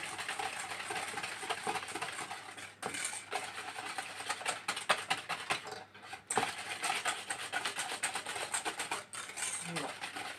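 Sugar and a tablespoon of vanilla whisked into cold milk until frothy for a crustless dried-apricot flan, giving a steady, close scratchy clatter of the whisk against the bowl that runs throughout with brief pauses.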